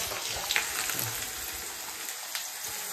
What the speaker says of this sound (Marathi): आईने फोडणी दिलेली आहे.